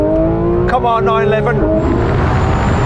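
Air-cooled VW 1303 accelerating hard from first gear, engine note climbing under continuous loud road and cabin roar, with voices talking over the first part.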